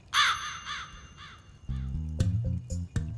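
A crow caws harshly a couple of times, loud and near, then fades as deep low thumping sounds and other noises take over.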